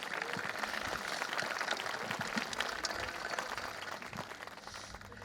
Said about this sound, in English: How about a round of applause for Mr. Tommy King?